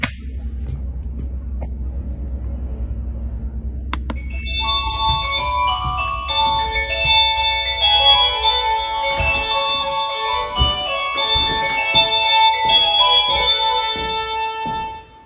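A doorbell in a newly bought house plays a Little Mermaid melody: a low hum at first, then a bright, ringing chime tune of layered notes that carries on steadily to the end, with no one speaking.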